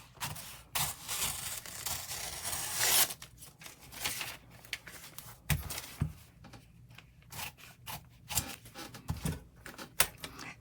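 Scissors snip along a paper pattern for a shirt cuff, giving soft, irregular crisp cuts and rustles of paper, close and quiet, with no talking.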